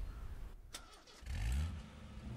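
A car engine in the H1Z1 video game cranks and catches after a short hush, then settles into a low rumble, with no voices over it.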